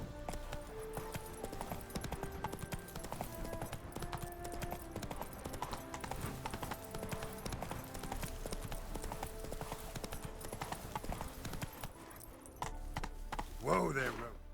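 Roach the horse trots in the video game The Witcher 3, close, steady hoof clip-clops in a brisk even rhythm beneath game music, ending in a short whinny.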